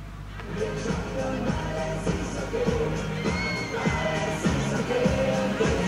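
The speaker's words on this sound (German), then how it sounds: "Oh, einen herzlichen Applaus!" A crowd at a pony race, where riders wear hot pants, claps and cheers loudly with whoops and shouts. The noise holds steady close by, with music or a beat underneath.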